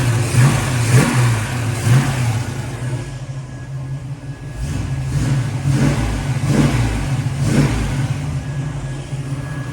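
A Pontiac Firebird Trans Am with a 350 V8 runs warm after a radiator installation, its engine rumbling steadily nearby with several short throttle blips rising and falling over the idle.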